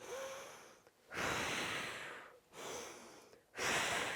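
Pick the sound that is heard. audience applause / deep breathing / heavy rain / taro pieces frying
deep breathing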